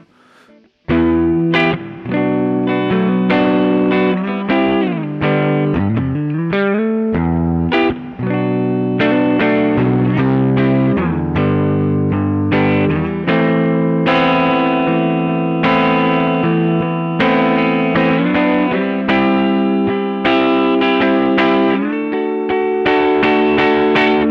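A sustained Eastman SB59V electric guitar on the middle pickup without compression, with a clean, shimmering tone, plays chords and melodic lines alone, ringing steadily with a wide, effected sheen throughout.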